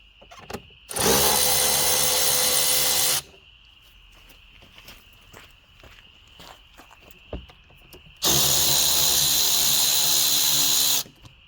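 A power driver with a 5/16 socket loosens a hose band clamp on a Jeep Grand Cherokee during water pump work, two loud whirring bursts of a few seconds each separated by quieter shop noise and small clicks.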